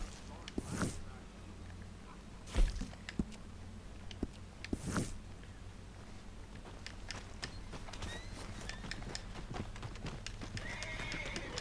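Horse hooves clip-clop steadily along with a couple of loud whinnies early on in the video game Red Dead Online, a rhythmic trot continuing underneath, plus faint voices.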